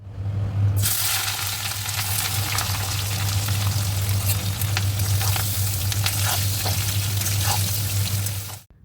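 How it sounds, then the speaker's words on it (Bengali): A small batch of potatoes fries in a pan with a loud, continuous close sizzle and a low steady hum beneath it, then cuts off abruptly at the end. No talking is heard. "আলু আর অত বেশি ভাজবো না অল্প করেই ভাজবো"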